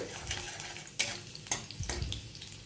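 Chopped garlic fries in hot oil in a pan while being stirred, giving a soft continuous sizzle broken by a few sharp scraping strokes of the spatula, close and moderately quiet.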